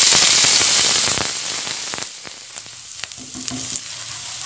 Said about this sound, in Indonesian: Ini udah aku siapkan minyaknya sekarang siap untuk ditumis. Kita masukkan bumbu yang sudah aku haluskan.